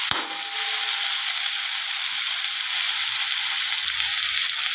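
Tomatoes simmer in a pan for a Gujarati galka (sponge gourd) curry, a soft continuous sizzle with a sharp scrape of stirring at the start and faint low clatter later on, no speech.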